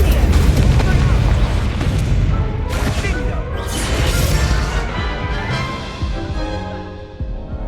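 Confringo fire spell blasts in the Hogwarts Legacy video game, with heavy booming explosions and crashing debris up close, layered with combat effects and a voice heard during the fight.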